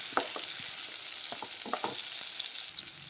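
Stuffed brinjals frying in a pan over a medium flame, with a steady sizzle and scattered soft scrapes and clicks of stirring throughout.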